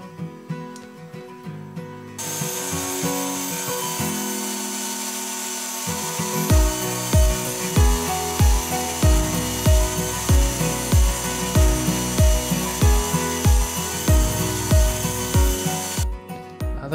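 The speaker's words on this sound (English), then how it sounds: "Now that we got our 1/2 inch plywood ripped down to size" Saw ripping 1/2 inch plywood to size for custom bifold closet doors, a loud continuous cutting whine with a rhythmic series of repeated pulses as the board is fed, close and alone.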